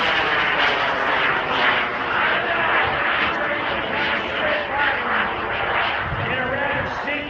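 A small airplane takes off at the Greenwood Lake airshow with a steady loud engine roar sustained throughout, while an announcer talks over it.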